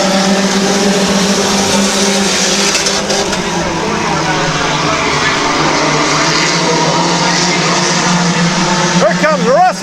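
Race cars roar around the Midvale Speedway oval on the final lap, a loud, continuous engine drone that shifts in pitch as cars pass, while a commentator talks over it.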